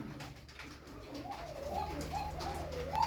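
Tumbler pigeons coo in a repeated, rolling pattern at close range, with soft background noise throughout.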